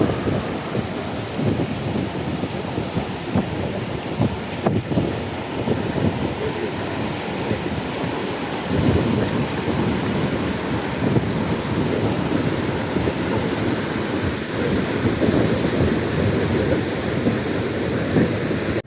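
The Tuolumne River rushes beneath a bridge along the Pacific Crest Trail, a continuous broad roar of flowing water, close and steady throughout with no voices.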